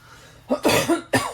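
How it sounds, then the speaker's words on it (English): A few sharp, harsh coughs in a quick burst, then a pause and another cough, close and fairly loud. "I had a coughing fit."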